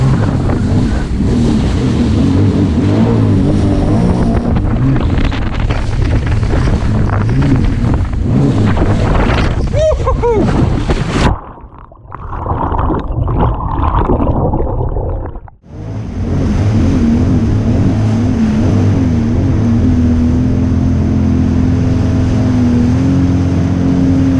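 A 2018 Sea-Doo personal watercraft runs loud and steady at sea off Cyprus, its engine roaring with wind and spray, briefly dropping away twice in the middle before surging back up to full power.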